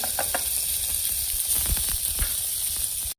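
Chopped onion and cumin sizzle loudly in hot oil, a close, constant hiss with soft stirring thumps, cutting off abruptly at the end.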